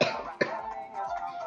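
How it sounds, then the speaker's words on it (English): A single sharp cough, a short throat-clearing burst near the start and another about half a second later, close to the microphone during Minecraft Skywars gameplay, with no speech. "sorry about the cough"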